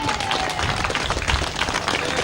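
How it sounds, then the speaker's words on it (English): Outdoor crowd at a grasstrack racing championship applauding the riders, broad continuous clapping under a voice speaking over a public address system. "let's have one more big round of applause for Jeremy Doncaster, David Howe and Kelvin Tatum"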